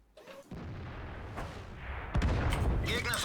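Artillery shell impacts on a tank in World of Tanks: a short burst then a sustained heavy boom with rumbling debris, a second sharper blast hitting about two seconds later, fairly close and dense.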